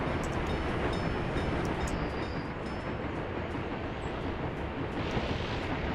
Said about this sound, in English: And then we have another train coming in.